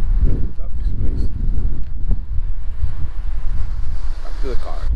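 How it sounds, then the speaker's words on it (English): Strong wind buffets the microphone outdoors in cold weather, a low rumbling gusty roar throughout with voices talking faintly over it. "It's windy."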